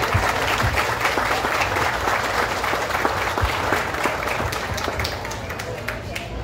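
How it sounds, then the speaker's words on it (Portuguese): Dense, sustained applause from an audience at a hometown honors ceremony in Tiros, Minas Gerais, many hands clapping steadily at close range with crowd noise mixed in and no pauses. "Aplausos, aplausos e mais aplausos."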